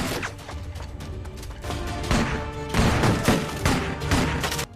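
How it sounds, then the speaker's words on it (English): Dense gunfire rattles through a fierce movie gun battle as attackers assault a home, with overlapping bursts and crashes layered thickly and loudly throughout, rising into heavier volleys toward the end. "he fights alongside Aquila in a fierce gun battle"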